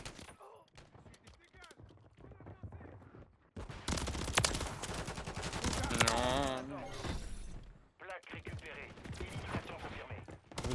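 Rapid bursts of automatic gunfire in Call of Duty MW3 ring out while the player slides, loud and close, in rattling strings with short gaps, as someone talks throughout.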